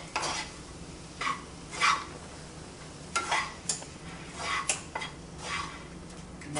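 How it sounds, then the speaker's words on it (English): Flour being stirred into a chicken and spinach mixture in a pan, with a low sizzle under repeated scraping and clinking strokes of a utensil against the pan, close and intermittent. "Flour to your mixture here, and stir it up"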